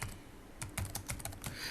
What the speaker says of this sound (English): So I'm going to type play here.